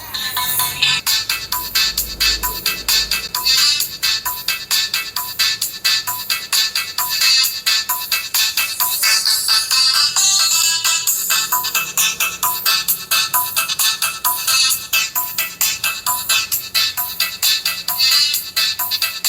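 A test signal plays through a small CD44 compression tweeter driver, producing a bright, loud, continuous stream of rapid, chirpy high-pitched tones that pulse with a fast, even rhythm throughout.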